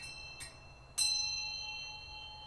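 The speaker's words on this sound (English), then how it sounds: "you hear that bell ringing there" Two bright metallic bell strikes, the second louder, ring out with a shimmering decay over a quiet background, with no talking.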